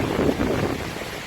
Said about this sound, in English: The weather is just superbly mild, sublime, windy